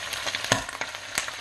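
Pork belly and pork skin sizzling in a frying pan, a steady close crackle and hiss with a few louder pops spread through it, and no talking.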